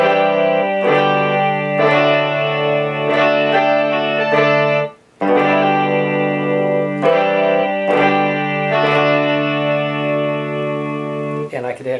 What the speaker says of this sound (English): which is a Rickenbacker 12 string